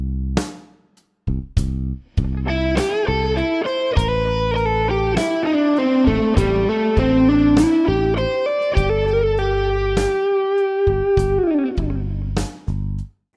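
A distorted electric guitar plays a blues lick slowly, with separated picked notes, a long bend and sliding phrases, alone and up close, with short pauses at the start and end.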